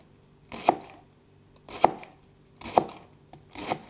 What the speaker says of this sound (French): je coupe le poireau, je réserve le vert, je vais émincer le blanc